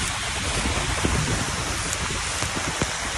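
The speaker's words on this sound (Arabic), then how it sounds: "ما شاء الله تبارك الله، أمطار جدا" Heavy rain pours steadily over Jeddah, a dense, loud, unbroken hiss with scattered drop splatters throughout.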